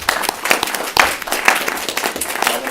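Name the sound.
audience applause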